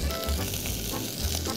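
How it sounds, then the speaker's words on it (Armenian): Onion, ginger and garlic fry in a pan on a cooking show, giving a steady, close sizzle with a faint stirring rhythm. "Ավելացնում ենք իմբիրը, չարունակում ենք տապակել և արդեն ավելացնում ենք սխտորը"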